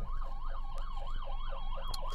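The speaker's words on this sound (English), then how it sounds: "There's an ambulance going there." An ambulance siren wails in a steady, rising and falling cycle, loud and continuous throughout, with no voices.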